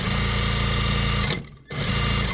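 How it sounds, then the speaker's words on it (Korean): A sewing machine runs a straight seam on dress fabric, giving a loud, steady close-up whir with one brief pause before it starts again. "박음질 쭉 해서 마무리."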